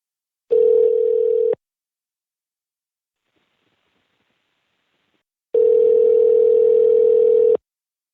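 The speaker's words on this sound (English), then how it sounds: "It's going to go to voicemail." Telephone ringback tone on an outgoing call: two long, steady electronic tones separated by several seconds of silence, clear and loud.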